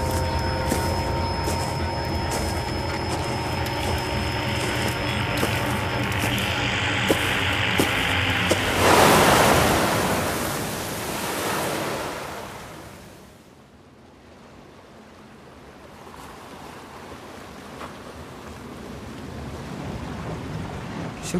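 Sea waves crashing and washing, a loud broad rushing roar that surges, then recedes into a quieter hiss before building again, with wind-like noise and no voices.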